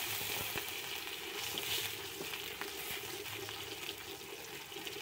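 Garlic sizzles in hot oil in a wok, a constant, close crackling hiss that stays even in level throughout.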